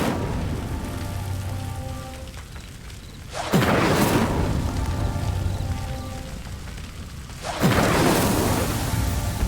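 An Incendio fire spell cast in the video game Hogwarts Legacy bursts out twice as a sudden whooshing roar of flame, each burst lingering over a soft rain-like ambient hiss, with no voices.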